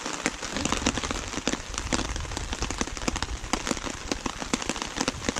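Rain showers patter steadily on a hammock in the Boundary Waters wilderness, a dense, close crackle of drops tapping the fabric without pause, with no talking.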